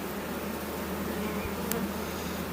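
Honeybees hum steadily around an opened hive, a continuous close drone that holds at an even level throughout with no talking.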